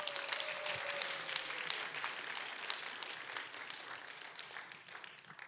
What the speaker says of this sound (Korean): 응원의 박수 한번 부탁드립니다